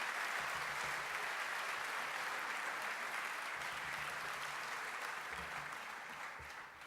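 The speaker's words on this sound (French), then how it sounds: "je vous demande de les applaudir très chaleureusement" A large audience applauds steadily and loudly to welcome guests at a political speech event in Marche-en-Famenne, a dense continuous clatter of many hands that fades slightly toward the end.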